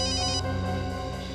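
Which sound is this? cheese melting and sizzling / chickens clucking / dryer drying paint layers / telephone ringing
telephone ringing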